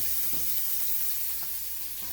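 Duck breasts and pancetta sizzle steadily in a hot frying pan, a close, continuous, bright crackle with no talking.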